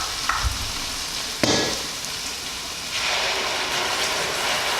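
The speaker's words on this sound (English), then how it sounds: "And give it a good stir." Tomato chicken stew being stirred in a pot, a soft scrape near the start and a sharper knock of the spoon against the pot, over a steady sizzle that grows louder and fills the rest.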